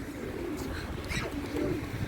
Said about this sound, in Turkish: Güvercin